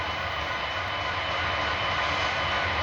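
A Union Pacific SD70ACE model locomotive, an MTH engine converted to a Loco sound decoder, gives a steady, close diesel rumble that holds an even level throughout.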